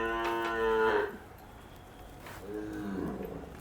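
A cow moos twice at close range during evening milking: one long, loud low moo, then a shorter, softer one after a pause.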